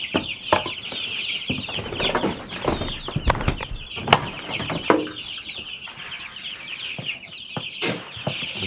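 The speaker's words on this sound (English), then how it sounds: "You see, these are meat birds," Backyard meat chickens cluck continuously at close range in a busy, overlapping chorus, with occasional scuffling and wing movement.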